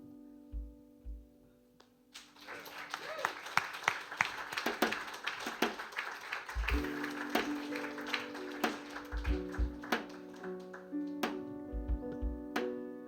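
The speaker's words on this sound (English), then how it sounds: "We have one more round of applause for Evelyn Dumont." Audience applause for a poet at an open mic, dense clapping that swells after a couple of seconds and holds steady under background music tones.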